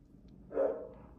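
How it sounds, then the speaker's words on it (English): A dog gives a single short bark at moderate distance, standing alone against a quiet indoor background. "Sorry for the dogs barking,"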